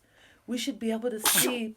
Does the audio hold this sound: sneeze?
yes